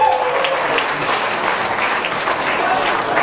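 A comedy club audience claps in a loud, steady burst of applause from a crowd, filling the room throughout with no pause.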